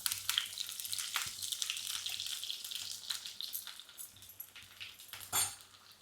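Curry leaves and onions fry in a pan for a Coimbatore-style mushroom kuzhambu, a bright, crackling hiss up close that surges and fades with occasional utensil knocks and a louder burst near the end.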